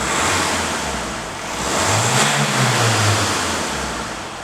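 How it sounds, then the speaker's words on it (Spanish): A turbocharged car engine, unloaded in neutral, swells from idle into a rev and then settles back in one smooth, loud rise and fall. "Vamos a pegar una serie de acelerones, Carlos,"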